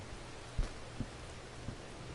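Rain falling in the video game Blackwater Bottom: a faint, even hiss of steady rainfall with a few soft thuds, heard alone without talk.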